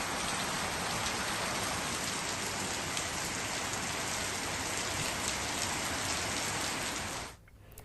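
Steady, dense rain pours down in an early-morning storm over farmland in Aravalli, Gujarat, a loud unbroken hiss of drops hitting surfaces that carries on evenly before cutting off abruptly near the end.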